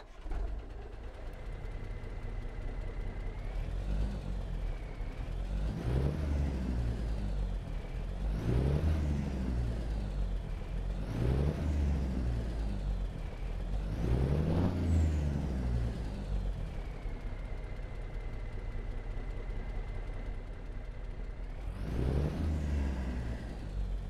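A Cummins N14 engine mod on a Peterbilt 389 truck in American Truck Simulator, with a deep diesel rumble that rises and falls through repeated rev-and-shift cycles and a whistling turbo whine, close and steady, no talking.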